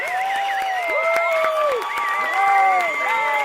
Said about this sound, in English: It's too much cheering.